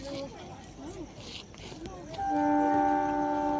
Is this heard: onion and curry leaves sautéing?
no